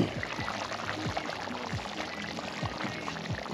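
Beef stew bubbling steadily in a pot at an outdoor camp, a dense, continuous simmer with many small overlapping pops and gurgles, close and moderately loud, with no talking.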